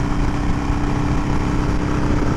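Harley-Davidson Iron 883 motorcycle, a 2020 model, rumbling steadily while being ridden, with a continuous low engine drone and wind noise at a constant, fairly loud level throughout.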